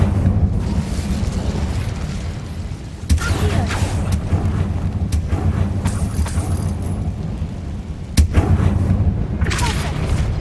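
Fire spell blasts in Hogwarts Legacy, cast as Incendio: two sharp, booming bursts stand out over a steady low rumble of game ambience.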